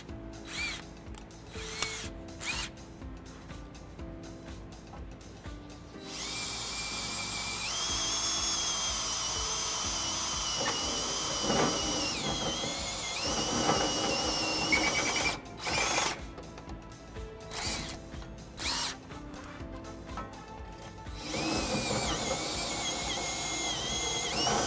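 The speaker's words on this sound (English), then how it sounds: "We'll go to our reamer bit." A power drill with a reamer bit enlarging a pilot hole to half an inch while fitting a front-mount trailer hitch on a 2014 Ram 1500: two long, steady high whining runs with a brief pause, after some clicking and handling.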